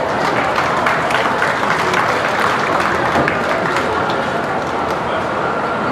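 Sustained clapping from a crowd fills the air at a county fair beef show as exhibitors are applauded in the ring, steady and fairly loud throughout with a dense, even texture.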